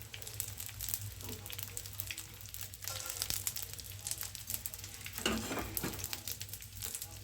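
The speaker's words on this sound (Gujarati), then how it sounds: "આપણો ગુંદ તળાઈ ગયો છે. હવે તેને કાઢી લઈશું." Edible gum (gond) frying in hot oil: a soft, steady sizzle with scattered crackles and bubbling, faint and close, with no talking.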